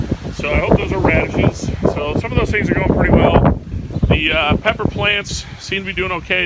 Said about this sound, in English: Very windy day, so I apologize for the audio.